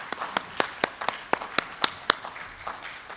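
Audience members clap after a conference presentation on procurement efficiency. The claps are few and sharp, spaced irregularly at close range, and they thin out toward the end.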